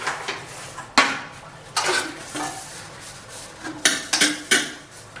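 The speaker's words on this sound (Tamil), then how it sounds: "சிங்கில் கொஞ்சம் பாத்திரம் கிடக்கு இதையும் வளைக்கலாம்" Pots, dishes and cutlery being washed in a kitchen sink, with scattered clanks and scrapes of metal over running water.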